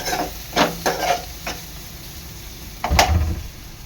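Browning onions frying in a pan and being stirred, a low sizzle under a few distinct scraping strokes of a spoon, close and moderately loud, with no talking.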